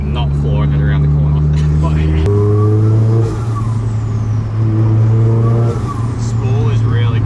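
Built Nissan S15 turbo car pulling hard on a street, engine note climbing and shifting through gears loudly up close, with people talking excitedly over it.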